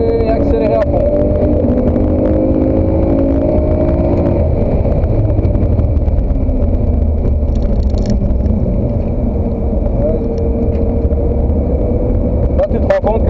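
Loud, continuous engine roar of a race car at full throttle on the Spa-Francorchamps circuit, pitch sweeping upward through gear changes, filling the whole stretch with steady intensity under talk.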